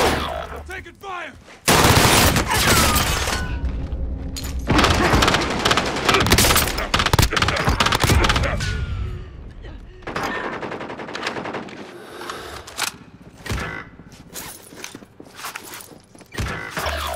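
Rapid automatic gunfire from Call of Duty: Modern Warfare rattles loudly in long bursts and single cracks, nearly continuous with brief pauses, close and dominant throughout.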